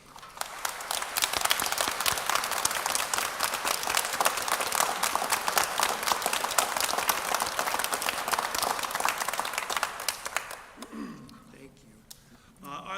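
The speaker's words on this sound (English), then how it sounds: "I wonder if we could have one more round of applause for the military personnel and veterans in the room today" Concert audience gives a round of applause honoring military personnel and veterans in the room: a full, sustained wash of many hands clapping for about ten seconds before tapering off abruptly into near quiet.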